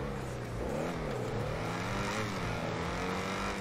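A new sports car's engine revs in GTA, with a steady, loud motor drone and rising and falling harmonic whine throughout, no voices.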